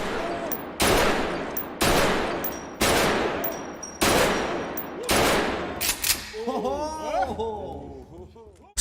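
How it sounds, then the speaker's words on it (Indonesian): Gunshots at shooting practice in a film ring out in a steady series of about six loud, evenly spaced reports, each trailing into a short decay, followed by voices and laughter. "Setelah latihan menembak"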